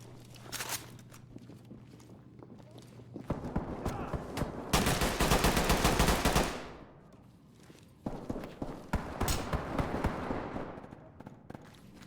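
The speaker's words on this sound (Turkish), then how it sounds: "Bir yerden gene silah sesleri geliyor." Bursts of gunfire from the tactical shooter game Ready or Not crack in rapid fusillades, with footsteps and movement between volleys, fairly close and loud.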